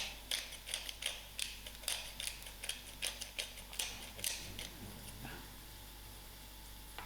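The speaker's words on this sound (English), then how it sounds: "I'm just going to sprinkle in some of my mixed herbs and also my grind of pepper." A pepper grinder is twisted over onions in a pan, producing a close run of quick rhythmic gritty cranking clicks that stop partway through, leaving a faint background hum, with no talking.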